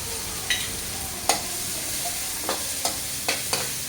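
Garlic fries in a pan with a soft continuous sizzle, broken by several sharp clinks and scrapes of stirring at irregular intervals.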